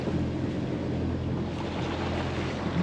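A sailboat motoring under engine power with no wind at sea off northern Sicily, a steady low engine drone and hull rumble blended with rushing wind and water noise, continuous and close.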